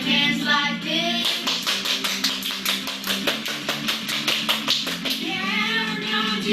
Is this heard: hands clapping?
yes